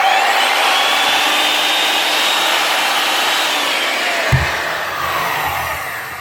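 A repaired American worm drive Skilsaw runs with a loud, steady high-pitched whine, then its pitch slowly drops as it spins down, with a brief knock partway through.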